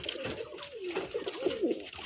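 Caged Madrasi high-flying pigeons restlessly jumping about, with several soft, close coos rising and falling over a low rustling background.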